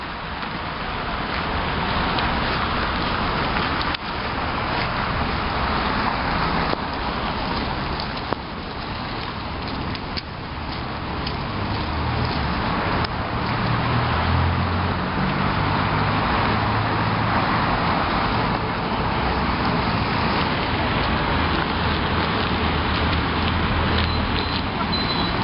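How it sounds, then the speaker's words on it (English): Street ambience in Turku, Finland, a steady wash of passing cars and roadway noise with a rain-like hiss, continuous and moderately loud throughout, no talking. "This is what a typical street in Turku looks like."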